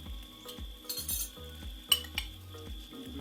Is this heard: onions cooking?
yes